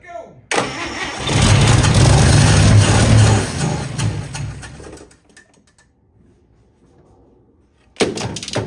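A 1955 Chevy engine cranks loudly and close for several seconds, the starter churning without catching, then falls quiet before another short burst of cranking.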